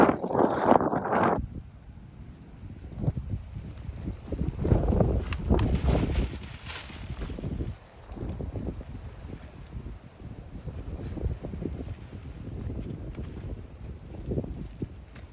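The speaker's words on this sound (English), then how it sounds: "Horrible wind today, I'm sorry." Strong gusty wind buffets the microphone in a chestnut orchard, a rumbling roar that rises and falls in loud surges over about fifteen seconds, close and continuous with no speech.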